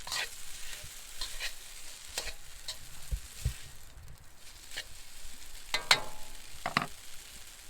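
Food sizzling steadily in a pan while a utensil stirs and scrapes it, with occasional sharper clinks of metal against the pan, moderately close and without voices.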